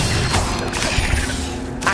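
An Incendio fire spell from Hogwarts Legacy bursts out as a loud, roaring whoosh with a low rumble, filling the moment before tapering off.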